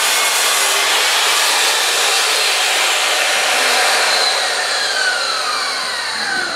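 A power saw whines loudly and steadily as it cuts wooden end pieces for a garage shelf, a close, continuous high buzz of blade through wood with no talking.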